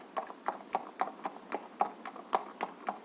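A horse's hooves clip-clop in a steady, even rhythm as a rider comes up to a garden wall in Dublin, about a dozen crisp, moderately loud hoof strikes over a few seconds with nothing else heard.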